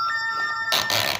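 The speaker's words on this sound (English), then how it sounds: "Shut up, notification." A phone notification chime, a steady bright ringing tone followed by a burst of broadband noise, close and fairly loud with no talking.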